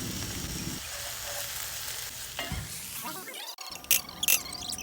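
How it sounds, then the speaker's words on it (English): Celery, garlic and tomato paste sauté in a pan, giving a continuous sizzle that dips and shifts as the mixture is stirred, with a few sharp clinks near the end. "I stirred it up, cooking for about 10 minutes or so, just until everything kind of caramelizes."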